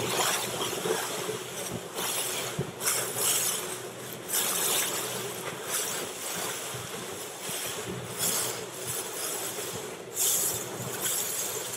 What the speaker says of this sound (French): la mer est un peu dure parce qu'en fait, il y a la houle dans tous les sens et le vent par moment est fort